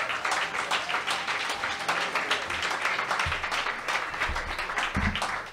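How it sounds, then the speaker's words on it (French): Conference audience of over a hundred people applauding at a neuroscience and AI evening event, steady dense clapping filling the room throughout, with low murmurs underneath. "une très bonne main d'applaudissement pour vous-même"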